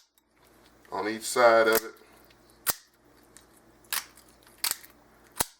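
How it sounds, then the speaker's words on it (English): Kitchen shears snip through rabbit ribs during butchering, giving four sharp, separate clicks spaced about a second apart, near and crisp, after someone speaks briefly. "you just snip those ribs right off there"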